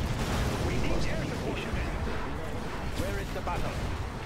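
Nuclear cannons firing in C&C Generals Evolution make dense, rumbling booming blasts and crackling detonations that layer over one another continuously.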